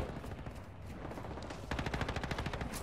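Gunfire in Call of Duty: Modern Warfare II, dense rapid automatic bursts rattling continuously, then sharper, louder rhythmic shots near the end, with no voices.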